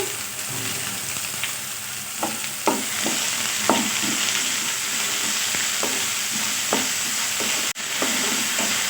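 Chopped onions and green chilies frying in a pan for aloo samosa filling, a constant sizzle broken by several sharp spoon-scraping stirs, close and clear without any voices.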